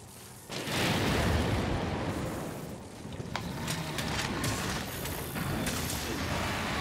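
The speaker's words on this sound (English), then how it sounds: "I'm gonna use a small little barrel bomb to blow this up" Small barrel bomb in Monster Hunter World, a sudden loud blast that swells into a sustained rumbling roar with scattered crackles, close and filling the mix.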